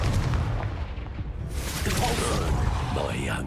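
A Confringo blasting spell explodes in Hogwarts Legacy, a booming burst amid combat noise, with a voice speaking over the blast.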